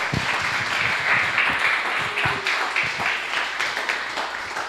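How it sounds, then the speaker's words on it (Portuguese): A church congregation breaks into loud, dense applause that fills the room continuously without any talk. "Aplauda o Senhor"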